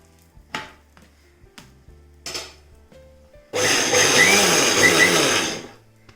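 A few scattered knocks and clicks from a kitchen mixer grinder's powder jar, then a loud, steady grinding whir of the spinning jar for about three seconds before it winds down.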